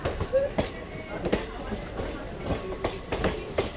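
A train of old ICF coaches near Kharagpur Junction rolls along with a steady, rhythmic clickety-clack of wheels over rail joints, loud and close, over a continuous rumbling background.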